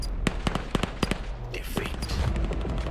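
Rapid gunfire in a Quest 3 virtual reality shooter game, a quick burst of sharp cracking shots in the first second and a half, followed by a scuffle of noise and a brief voice.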